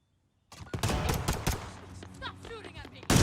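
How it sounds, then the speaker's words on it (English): Gunfire in Modern Warfare's Infected mode, sharp close shots and rapid bursts after a brief silence, with chirpy tonal game sounds in the middle and a final loud burst at the end. "Stop shooting at me."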